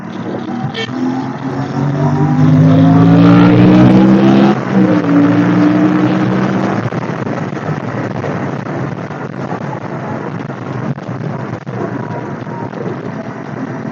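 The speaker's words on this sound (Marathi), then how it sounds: "आज ट्रॅफिक खूप जास्त आहे" Heavy Saturday road traffic around a moving motorcycle on a street under repair: a dense, continuous roar of engines and tyres with a louder vehicle revving and passing close by early on, then a steady traffic rumble.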